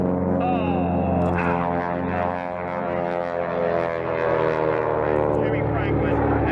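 Propeller aircraft fly a mirror formation at the 1990 Reno Air Races, one plane upright and one inverted, producing a loud, sustained droning engine roar with shifting pitch, heard up close and continuing throughout.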